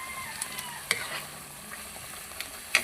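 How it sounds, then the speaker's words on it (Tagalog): Bagoong, fermented shrimp paste, sizzles and frying in a pan while a utensil scrapes and stirs, with occasional sharp clinks over a steady crackle. "nagluluto tayo ng bagoong sagata"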